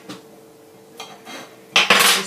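A knife slicing into sticky gummy dates on a board, a few short close scrapes and clicks of metal, the last ones louder, with no talking.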